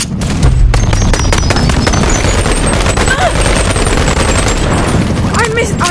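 Gunfire in the VR shooter Bonelab crackles in dense, rapid bursts and booms throughout, loud and continuous, with a player's voice reacting over it.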